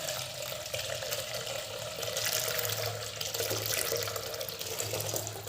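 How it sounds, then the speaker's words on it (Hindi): Running water from a tap splashes steadily and loudly into a bowl or sink as soya chunks are rinsed in a kitchen, a continuous wash of sound with no voices. "स्टेन करने के साथ ही हम इसको थोड़े से पानी डालते हुए इसको वॉश कर लेंगे"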